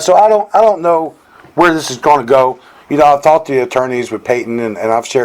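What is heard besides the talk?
No distinct noise like a dog, phone or traffic.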